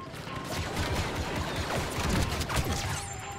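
Rapid blaster fire in Star Wars Battlefront II, a steady stream of sharp, repeated shots with crashing impacts and sweeping laser zips over busy battle noise, moderately loud throughout.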